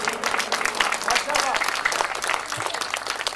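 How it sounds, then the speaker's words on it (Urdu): An audience at a birthday gathering in Denmark claps enthusiastically, with a fairly loud, dense patter of hands while a voice carries over it. "اور آپ تالیاں ان کے لیے زوردار"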